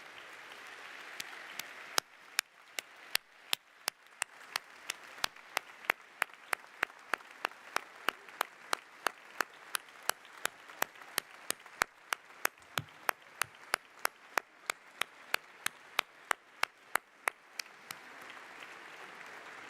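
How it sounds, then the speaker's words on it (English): Graduation audience at a business school commencement applauding steadily, a dense bed of many hands clapping with a few sharp close claps standing out, continuing evenly throughout. "applaud them as a token of your appreciation"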